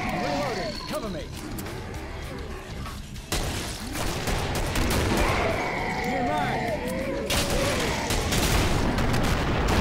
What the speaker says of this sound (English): Another rocket, a little bit overkill, I think.